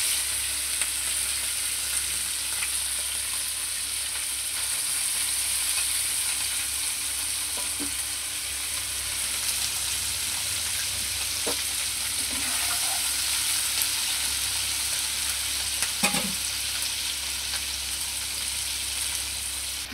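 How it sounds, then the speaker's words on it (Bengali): Tangra fish frying in hot oil, a steady close sizzle with occasional soft stirring clinks, continuous and even throughout with no talking. "এখন মাছগুলোকে একটু ভেজে উঠাবো, অল্প অল্প করে মাছগুলোকে ভেজে উঠাবো।"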